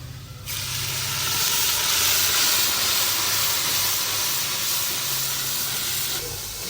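Water poured into a hot pan of browned onions bursts into a loud, steady hiss and sizzle that holds for several seconds, then cuts off abruptly.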